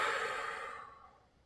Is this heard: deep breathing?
yes